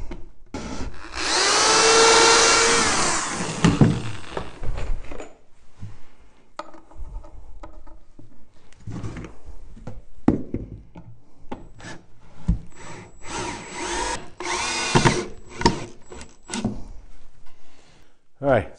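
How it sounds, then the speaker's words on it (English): Power drill pre-drilling a hole in a wooden Layens beehive box: a loud whining burst of a few seconds near the start, then scraping and handling, and another shorter drill burst toward the end, with some talk mixed in. "we'll go ahead and pre-drill our last hole"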